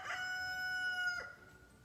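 A rooster crows once, a single bright, strained call held for about a second before cutting off, fairly close, with faint background noise afterward.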